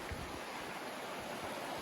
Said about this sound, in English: We're down here, we got to cross this little creek or river.